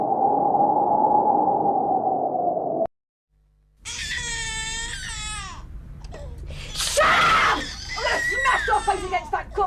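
A child screams and wails in a British public information film, shrill and sustained, with raised adult voices shouting over it after a brief silent break.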